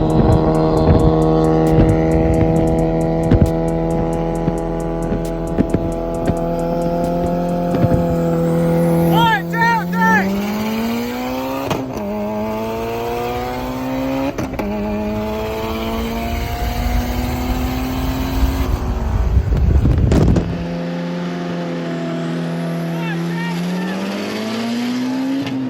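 Cars racing side by side in a street race, loud engines droning and climbing in pitch through gear changes, with a sharp shift and a fading pass near the end, voices faintly underneath.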